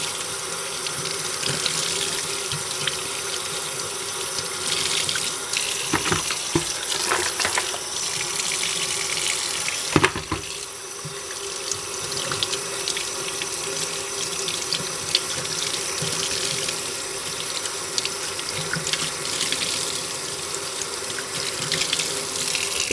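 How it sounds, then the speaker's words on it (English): Water gushes steadily down a drain, a loud continuous rushing splash with a few brief knocks and clatters partway through. "Best place for slimy water is in the sewer."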